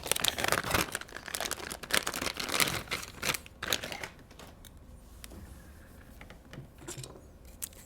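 Plastic keycaps being pried off a KC84 keyboard with a keycap puller, a dense run of close clicks, snaps and rattles that thins out into sparse scattered clicks.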